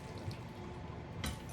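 Hot garbanzo bean broth and beans poured through a strainer into a bowl, giving a steady wash of running liquid with a brief louder splash near the end.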